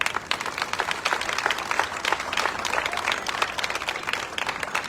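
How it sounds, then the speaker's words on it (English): An outdoor festival crowd applauds the Red Shirt Club family, many hands clapping in a lively, sustained rattle that stays fairly even, with a few voices mixed in. "So please give all them a big round of applause."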